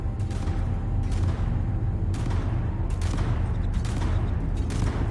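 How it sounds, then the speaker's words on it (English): Gunfire with people being shot in a game, a continuous dense rumble of distant shots and booms with repeated sharper bursts every second or so, loud and without a break. "They're shooting everybody and everything."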